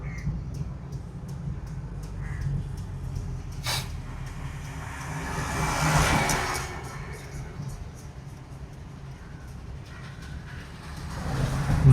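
Car interior during a driving lesson on a Tamil road: steady low engine and road rumble runs throughout, swelling briefly mid-way as the car speeds up, with a faint caw-like call and distant traffic, and no clear talk.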